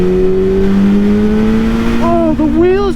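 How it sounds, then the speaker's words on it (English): A 2000 Honda CBR929RR sport bike accelerating hard with its rear wheel spinning, a loud close engine drone rising in pitch, then a brief dip and a fresh climb as revs jump, with a rider's voice over it. "Oh, the wheels just spun."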